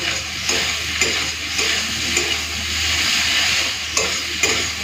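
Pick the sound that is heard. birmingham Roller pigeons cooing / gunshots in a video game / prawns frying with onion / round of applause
prawns frying with onion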